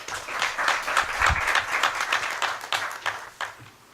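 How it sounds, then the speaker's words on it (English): Applause at a school board of trustees meeting, a short burst of scattered clapping from a modest room of people that swells and then fades out over a few seconds. "So let's give these folks a round of applause again."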